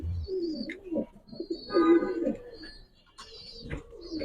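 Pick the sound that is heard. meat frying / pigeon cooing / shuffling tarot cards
pigeon cooing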